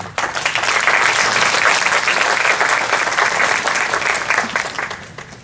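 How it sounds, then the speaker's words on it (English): An audience at an Alzheimer's research conference gives a warm round of applause to welcome Dr. Barber, a dense burst of clapping that swells quickly, holds for several seconds, then tapers off. "So please give him a warm round of applause"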